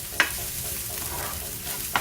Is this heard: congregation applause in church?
no